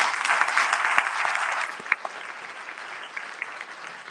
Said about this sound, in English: can we just get a round of applause for our panelists